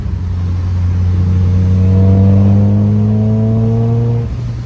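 A 1999 Mustang Cobra with a Rotrex centrifugal supercharger revs up close. The engine note climbs smoothly and loudly over about four seconds, then drops off abruptly as the throttle is released.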